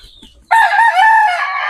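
A single loud crow from a molting gamefowl rooster starts abruptly and holds for over a second, strong and close, with faint clucking just before it.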